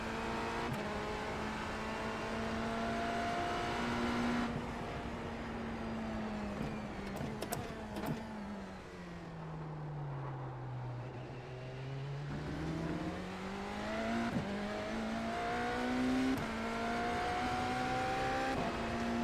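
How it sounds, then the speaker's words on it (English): A Cosworth race car engine in the iRacing sim wails continuously through gears, the pitch dipping and rising as it brakes and accelerates, loud and close with no talk over it. "Nice Cosworth engine. Nice power sounds."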